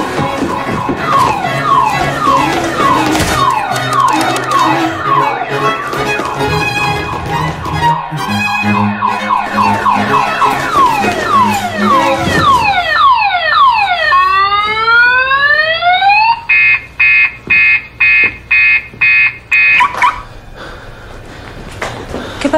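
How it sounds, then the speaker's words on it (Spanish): A loud alarm in a comedic ad about a theft, made up of a rapid run of shifting electronic siren tones: warbling chirps, then falling and rising sweeps, and finally fast on-off pulsing beeps. It sounds close and nearly constant, with almost no speech. "¿esa alarma que está sonando no es la tuya?"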